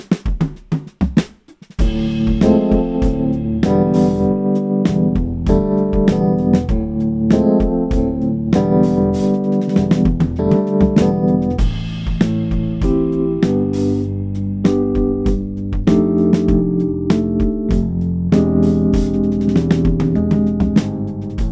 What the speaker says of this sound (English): So that is Toontrack Soul Rhodes EKX, classic Rhodes piano sounds for your DAW.